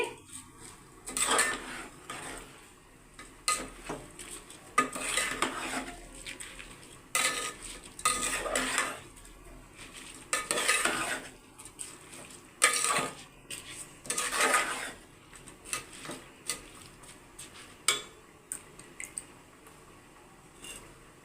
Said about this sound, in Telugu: రైస్ వేసుకొని మెల్లిగా కలుపుకోవాలి